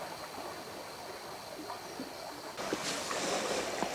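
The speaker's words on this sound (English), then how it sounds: "A nice peaceful stretch of the river." Gentle, steady wash of the Upper River Medway flowing on a quiet summer stretch, a soft continuous rush with faint splashy ticks that swells slightly louder toward the end, with no voices.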